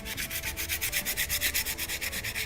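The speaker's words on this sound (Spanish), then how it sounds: "Mientras lijamos la superficie," Steady back-and-forth sanding of a surface being prepared for acrylic paint, a rapid even rhythm of rasping strokes, close and continuous without talk.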